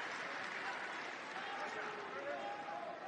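Basketball arena crowd at an Alabama versus Texas A&M college game applauding a made free throw, a dense steady wash of clapping and crowd noise with a commentator talking over it.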